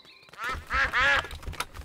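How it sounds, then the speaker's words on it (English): Cartoon ducks in a children's animated show quack in quick, loud bursts, several squawking calls overlapping close up over a short stretch. "The ducks are running through Daddy's paint."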